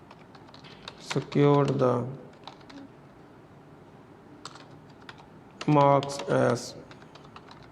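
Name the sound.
typing on a computer keyboard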